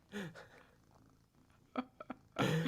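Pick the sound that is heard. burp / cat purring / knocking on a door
cat purring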